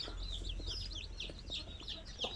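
Sampen breed hen and her chicks, a continuous chorus of soft high chick peeping with occasional low clucks, faint and close, over a low background hum, no talking.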